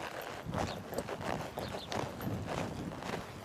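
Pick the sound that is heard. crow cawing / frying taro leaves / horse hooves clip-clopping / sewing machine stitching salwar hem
horse hooves clip-clopping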